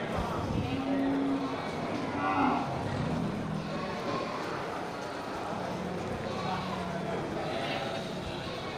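Beef cattle lowing at a busy livestock market, a few moos rising out of a dense crowd murmur, with people talking nearby.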